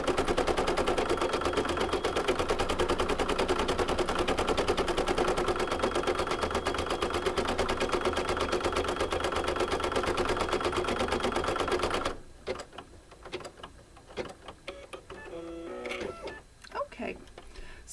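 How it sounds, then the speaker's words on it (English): An embroidery machine stitches maple leaf veins on an appliqué coaster held in a hoop, a loud, steady, rapid mechanical chatter that runs for about 12 seconds and then stops. Afterward a person speaks over quieter handling noises. "this is also going to stitch the veins of the leaf"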